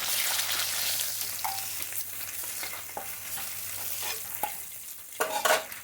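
Food frying in a pan while being stirred, a soft continuous sizzle punctuated by scattered spatula scrapes and taps, heavier clattering toward the end, close and fairly quiet.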